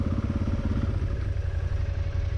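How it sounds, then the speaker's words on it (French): A motorcycle engine drones steadily on a desert trail in Morocco, loud and close, with a low rumbling hum and no voices. "Moto en face, hein."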